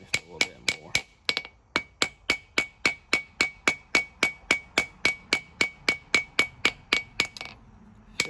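Small trim hammer striking hot metal while forging a small knife blade from scrap metal, about twenty-four sharp, evenly spaced ringing blows in a steady rhythm, close and alone, ending in a brief quiet.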